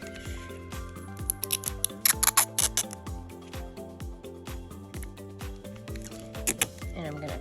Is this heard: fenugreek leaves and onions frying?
no